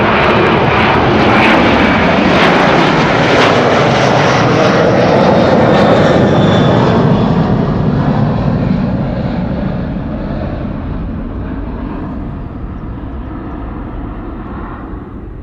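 A thirteen-year-old jet airliner departs Amsterdam Schiphol Airport, its engines a loud broad roar at first that slowly fades as the plane climbs away into the distance.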